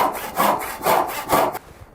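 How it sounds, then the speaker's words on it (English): A hand saw cuts through wood for a half lap joint, its waxed blade making four rhythmic, rasping push-and-pull strokes close by before it stops, with no talking. "I'm going to put the saw into the cut, and I'm almost to depth of the cut there"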